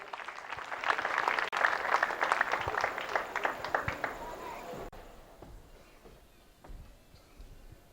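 Lively audience applause and cheering greet two singers at a charity telethon, loud and dense for several seconds before fading to scattered claps and quieter room noise.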